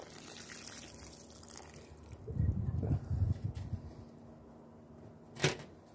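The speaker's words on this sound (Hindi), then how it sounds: "ये इसका जो पानी था इन इतने दिनों से वो ही हम इसमें डालेंगे।" Water collected over several days is poured into a pot holding rose cuttings, a short splashing gush in the middle followed by a brief louder splash near the end, close and with no one speaking.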